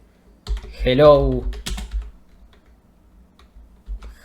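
Keys on a computer keyboard tap in a short cluster of clicks close by, set between spoken words and quieter pauses.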